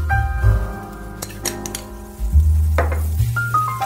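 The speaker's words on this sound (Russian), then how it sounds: "А теперь обжариваем пальчики на сковороде." Finger-shaped pieces fry in butter and vegetable oil in a frying pan, giving a steady sizzle. Utensils clink and scrape against the pan now and then, close up, with no speech.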